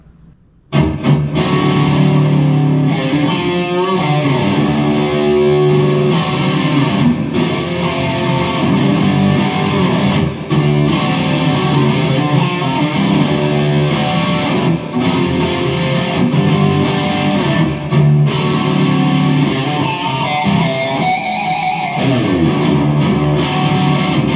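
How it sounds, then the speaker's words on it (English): A Firefly Zakk Wylde-style Les Paul electric guitar on the bridge pickup with volume and tone fully up, through a Line 6 stomp on its crunchy channel: loud, continuous distorted chords and riffs played alone for over twenty seconds. "I've switched over the line 6 stomp to the crunchy channel, and we're just going to start out again in our bridge position"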